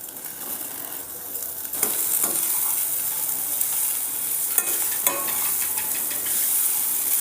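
Chopped beetroot sizzles loudly in a hot pan while a utensil scrapes and stirs through it, with a few sharper clinks against the metal.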